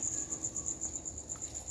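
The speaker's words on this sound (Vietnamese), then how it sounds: "đây là những con dế cái nha mọi người thấy này" Thai crickets kept on a farm chirp in a steady, unbroken high trill that pulses slightly as it runs, close and fairly quiet, with no voices.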